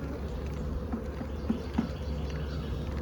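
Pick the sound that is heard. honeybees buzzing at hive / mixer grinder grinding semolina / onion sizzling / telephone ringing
honeybees buzzing at hive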